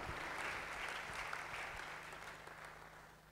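A church congregation applauding during a French-language service, a soft, distant, steady patter of many hands that slowly tapers off over a few seconds.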